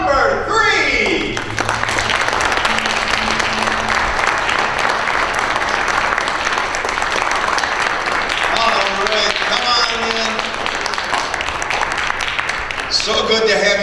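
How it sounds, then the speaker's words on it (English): Audience applause at a pageant, sustained loud clapping from a crowd that swells and holds for several seconds, with a voice speaking faintly over it. "So let's give number 3 a big hand."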